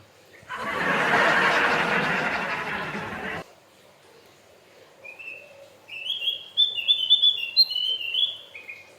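A Javan white-eye kept in a cage gives a run of high, bright chirping notes near the end, after several seconds of loud broadband rustling noise at the start.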